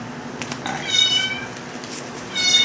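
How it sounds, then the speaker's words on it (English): Cats meow repeatedly and fairly close in a room with a steady low hum, the calls rising and falling in a few drawn-out cries spread across the moment. "I can't focus. Those cats are too precious."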